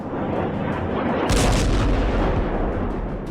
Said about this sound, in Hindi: तेल अवीव पर खुर्रम शहर मिसाइलें गिर रही हैं।